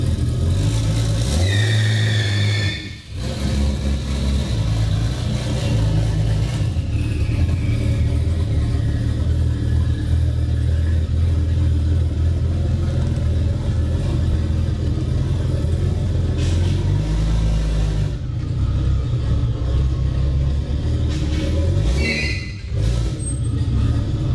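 A turbocharged V12 swapped into a Toyota Cressida revs hard and loud, close up, in repeated throttle blips. A couple of brief dips break the continuous engine roar.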